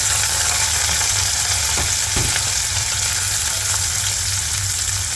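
Onion and curry leaves fry in hot coconut oil, a steady, loud, dense sizzle throughout with a couple of soft stirring knocks, no voices.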